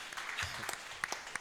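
A handful of scattered, faint claps come from a conference audience at a banking and ethics event, sparse and uneven rather than full applause.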